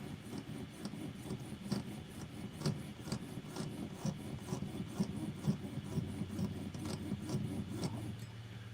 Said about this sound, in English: with the jeweler's saw, you just go slow and careful